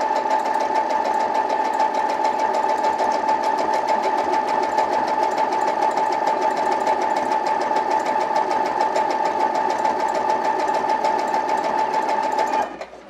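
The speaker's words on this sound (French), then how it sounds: "Et donc là, ma boutonnière est en train de se faire." A sewing machine stitches a buttonhole in fabric, running steadily and loudly with a constant rapid mechanical whir for about twelve seconds before slowing and stopping at the end, with no talking.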